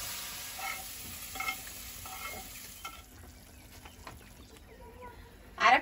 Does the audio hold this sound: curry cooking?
yes